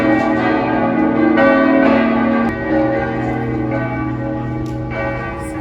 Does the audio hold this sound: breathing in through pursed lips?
no